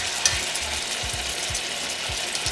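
Chicken pieces searing in a crowded pan for fajita rice bowls, a steady loud sizzle with faint periodic scraping knocks, no voices.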